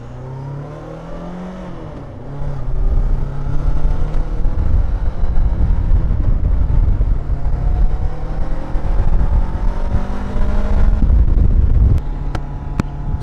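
A Hunter Maverick 500cc motorcycle ridden in Bali gives a steady, loud engine drone under heavy wind rush, rising in pitch after a couple of seconds as it speeds up, then easing near the end.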